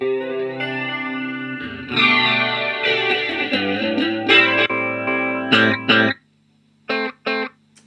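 Electric guitar playing through a Zoom 505 multi-effects processor, chorused and distorted notes and chords, ending in short choppy stabs separated by brief silences.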